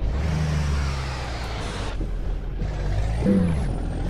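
A Scania P-360 truck in Euro Truck Simulator 2 brakes, with its engine rumbling low, a sharp air-brake hiss cutting in midway and a brief squeal near the end.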